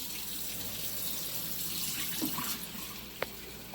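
Hot water runs steadily from a kitchen tap into a sink, a continuous hiss at moderate level with a couple of small clinks near the end, no talking.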